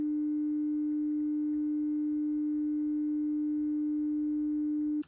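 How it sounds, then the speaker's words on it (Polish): A vintage tuning-fork wristwatch gives off a steady, pure electronic hum at one pitch with faint overtones, unbroken and quiet until it cuts off abruptly at the end. "Oraz, że ten zegarek będzie brzmiał mniej więcej tak"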